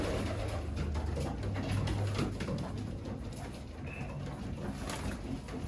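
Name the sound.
pigeons in the new loft eating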